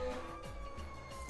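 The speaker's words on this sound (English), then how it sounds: "They've sent the police. Actually, it is the fire trucks." Fire truck sirens wailing outside, heard faintly and at a distance through the room, with rising and falling sweeps low in the mix.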